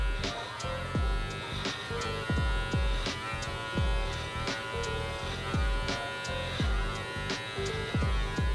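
An electric beard trimmer used without a guard to tighten a beard line, making a steady, close mains-like buzzing hum with repeated short downward strokes that come through as rhythmic pulses.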